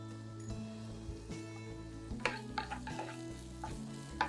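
Vegetables with a little salt sauté in a pan for chilli idli, a steady close sizzle with repeated scraping stirs and a few clinks of the spoon against the pan.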